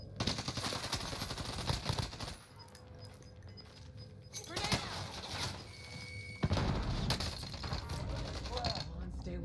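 Automatic and single gunshots crack out in bursts during a Call of Duty Warzone match, loud and repeated close by, while players talk over the firefight.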